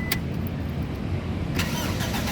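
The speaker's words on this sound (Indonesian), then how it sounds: "sekarang kita coba nyalakan mobil" A 2005 Toyota Kijang Innova 2.0 V automatic engine cranks briefly and then settles into a steady low idle, with a second sharp click or catch partway through, close and fairly loud.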